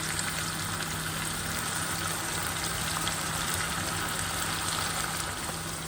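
Mawa (khoa) cooking and melting in ghee in a pan, a steady, dense sizzle and frying hiss that runs close and unbroken throughout, with no voices.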